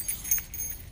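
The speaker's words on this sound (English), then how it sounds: "then they're jingling their keys" Keys jingle in a brief, light metallic rattle of a few quick clinks, close by and fairly quiet, with no one talking.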